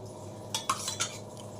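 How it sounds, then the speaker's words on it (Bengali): A spoon stirs yogurt into milk in a bowl to set curd, a few quick clinks and scrapes of metal against the container over a low steady background hum, close and fairly quiet, no talking. "এবার এই দইটা অল্প অল্প করে এই দুধের মধ্যে দিতে হবে, দিয়ে আস্তে আস্তে করে নাড়তে হবে"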